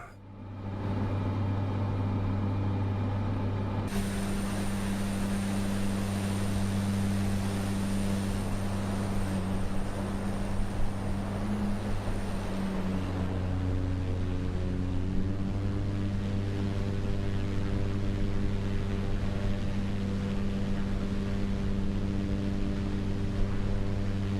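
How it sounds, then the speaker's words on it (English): A simulated aircraft engine drones with a steady low hum in Microsoft Flight Simulator 2024 and holds loud and constant throughout, its tone shifting slightly partway through with no voices. "I'm going to turn down the engine noise a little bit."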